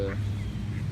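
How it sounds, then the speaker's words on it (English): Ducks calling nearby, a short honking quack standing out near the start over a loud low rumbling background, with a fainter call following. "It was real crazy how these ducks just started surrounding me"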